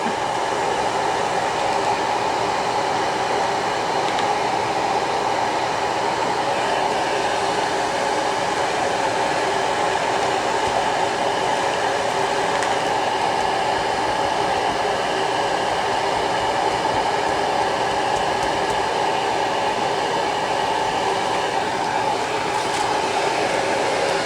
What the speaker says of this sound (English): I'm really sorry for the loud dryer if it's too loud for your ears